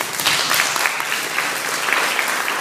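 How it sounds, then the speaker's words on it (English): Audience applause at a mayor's breakfast in 2017 swells into a full, steady round of clapping from a roomful of people, loud and continuous throughout. "So another round of applause for Kennedy, please."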